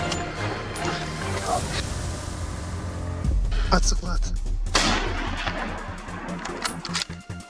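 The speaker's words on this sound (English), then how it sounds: "Gunfire erupted across the hillside" Loud bursts of hunters' gunfire crack and boom in quick succession across a hillside during a wild boar hunt, with sharp repeated shots toward the end over a rumbling, busy background.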